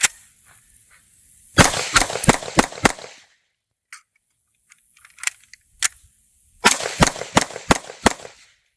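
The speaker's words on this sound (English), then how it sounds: "just a quick mag transition" A PSA Rock 5.7 pistol fires at a range: a quick string of five sharp, loud shots, a pause with a few faint clicks during the magazine change, then another rapid string of five shots.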